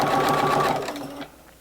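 A sewing machine runs fast and close while stitching a fabric poinsettia pot wrap, whirring loudly for under a second. It then slows and stops, and a small click comes at the end.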